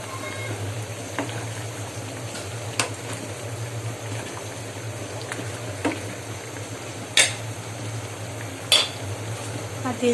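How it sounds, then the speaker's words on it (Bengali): Fried onions stirred into a shahi chicken roast in a pan with ghee: a spoon scrapes and taps against the pan in sparse, sharp clinks over a low, steady cooking hum. "তো বেরেস্তা দিয়ে দিচ্ছি।"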